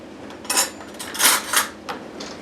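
A spoon clinks and scrapes against a bowl holding confectioners' sugar and butter for shortbread, with a few close, brief knocks spread over a couple of seconds and no talk.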